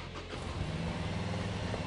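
A new 2014 Harley-Davidson Sportster 1200 Custom motorcycle idling close by, a steady low engine rumble that holds even and loud throughout, with no speech.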